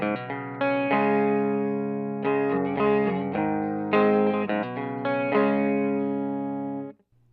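A clean electric guitar plays sustained chords and a few notes through an amplifier with no effects, ringing clearly before cutting off near the end.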